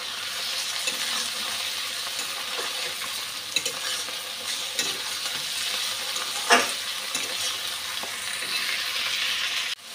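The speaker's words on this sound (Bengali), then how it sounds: "এখন মেটে গুলা দিয়ে দিচ্ছি" Goat liver frying with onion, ginger and garlic in a pan, giving a steady, fairly loud sizzle for the whole stretch, with a few soft scrapes of stirring and one sharper knock midway.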